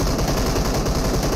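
Shotgun fire in a multiplayer shooter game, a dense burst of loud close blasts running through the whole moment, with no talk over it.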